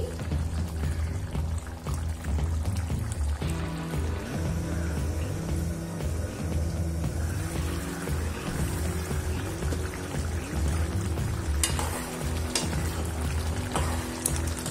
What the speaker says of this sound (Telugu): ఇప్పుడు మూత వేసి బాగా దగ్గరకు వచ్చే వరకు ఉడకనివ్వాలి.